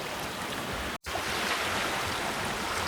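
A sailboat runs downwind at about seven knots through waves, with steady loud rushing water and wind noise throughout and a brief dropout near one second.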